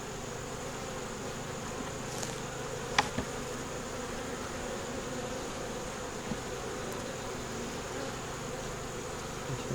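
Honey bees crawl over a hive frame carrying brood, nectar, pollen and eggs, making a continuous close, soft buzzing hum with a few brief louder wingbeat passes.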